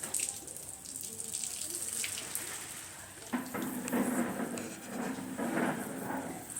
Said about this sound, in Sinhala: මේකට නම් හොඳට වතුර දාන්න